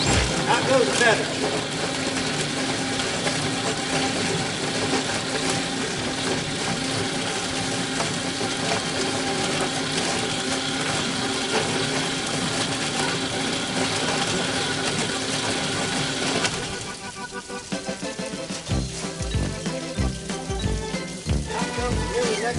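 A chicken plucker runs with a steady engine-like mechanical drone and rattle for most of the stretch, then gives way near the end to a lighter, pulsing rhythmic sound.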